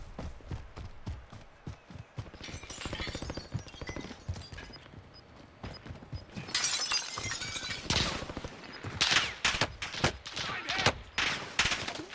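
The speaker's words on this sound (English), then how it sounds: "I'm taking fire!" Bursts of gunfire in Call of Duty: Warzone, with sharp cracking shots clustered in quick volleys that grow louder and denser toward the end, mixed with clattering footsteps.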